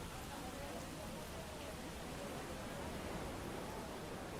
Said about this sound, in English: the rain sound became really loud